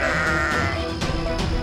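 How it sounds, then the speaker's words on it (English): Frightened cartoon sheep bleat in a pen, several loud, wavering cries following one after another, close and clear with no talking. "Suddenly, the sheep in the pen grew very frightened."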